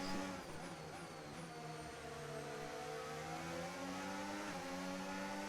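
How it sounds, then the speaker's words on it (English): An F1 car engine in the racing video game F1 25 produces a smooth, buzzing, harmonic whine that climbs in pitch as it accelerates. The engine is quiet and stays steady under no talk. "listening to the car engine"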